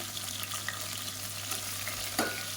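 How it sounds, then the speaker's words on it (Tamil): Whole spices frying in hot oil in a pan for street-style vegetable biryani, giving a steady close sizzle and crackle throughout, with a brief louder pop near the end. "மசாலா வந்து பொரிய ஆரம்பிக்குது"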